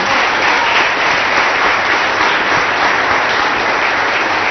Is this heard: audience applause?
yes